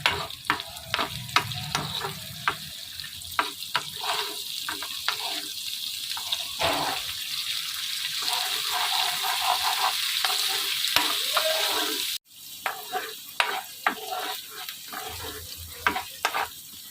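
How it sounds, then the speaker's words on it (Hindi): Ginger frying in about two tablespoons of oil in a pan: a steady crackling sizzle, broken by sharp clicks and scrapes of stirring, cuts out briefly and then resumes. Nobody speaks. "और 2 टेबल स्पून ऑयल में मैं इसे फ्राई कर रही हूँ।"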